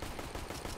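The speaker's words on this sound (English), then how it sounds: "Was that a mag 7?" Gunfire in a video game, a MAG-7 shotgun, as a dense run of loud broadband blasts filling under a second with no pauses between them.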